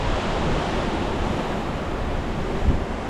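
Ocean waves heard at night from a cruise ship in Singapore, a steady rushing wash of surf with wind noise, fairly loud and continuous.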